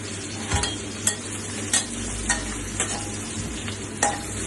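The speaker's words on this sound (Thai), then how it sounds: "แล้วก็ใส่กระเทียมลงไปก่อนนะครับ" Garlic frying in a hot pan for Thai basil minced chicken: a continuous crackling sizzle punctuated by regular sharp scrapes of a spatula stirring, roughly every half second, with no voices.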